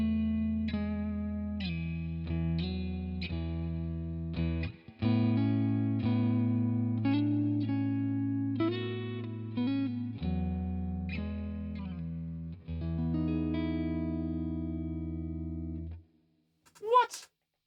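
Sustained electric guitar chords and notes through a Boss Katana amp ring out with heavy, washy added reverb and a shimmering modulated tone, ending in a brief high squeal.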